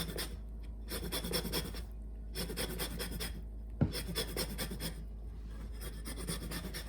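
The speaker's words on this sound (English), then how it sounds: "I'm going to zest 1 whole lemon." A whole lemon is zested on a grater in a kitchen, giving bursts of dry rasping scrapes in repeated strokes with short pauses between, close and fairly steady, with no speech.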